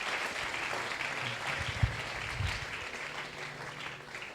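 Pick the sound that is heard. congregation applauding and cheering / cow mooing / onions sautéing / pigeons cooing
congregation applauding and cheering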